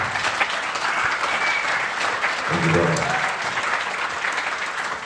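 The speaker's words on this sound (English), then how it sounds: "Now Round of applause for that, by the way." Steady, dense applause from a crowd, loud and continuous throughout, with no break.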